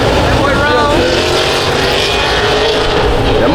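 A car with a 383 engine roars at a car meet, a loud, continuous engine drone with a crowd's voices mixed in throughout.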